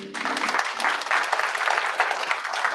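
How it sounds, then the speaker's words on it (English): Warm round of applause from a tech meetup audience welcoming a speaker to give a React Native talk, steady dense clapping throughout, with a brief trace of a voice at the very start. "give a warm round of applause for Krunal Shah"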